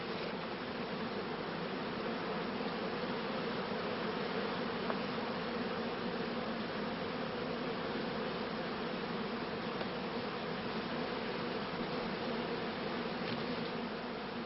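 Honeybees swarm over a hive comb while the old queen is picked off and caged, making a dense, steady, close buzzing hum that holds unbroken throughout with no voices.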